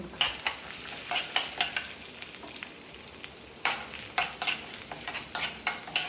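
Chili and coconut stirred in a hot pan for a bitter gourd sesame curry, a run of quick, clattering spoon strokes over a low sizzle, close and fairly loud, with a short pause midway.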